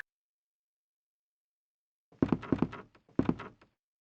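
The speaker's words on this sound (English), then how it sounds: "let's go through this door" A door opens in the original Resident Evil, heard after two seconds of silence as a few heavy thunks and creaks in two close clusters, then it goes quiet.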